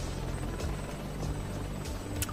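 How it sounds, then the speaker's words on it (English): SA-342 Gazelle helicopter in the combat flight game DCS World, a steady whirring rotor and engine drone held at an even level throughout, with a faint higher whine running above it. "The dangerous SA-342 Gazelle. Extremely dangerous helicopter."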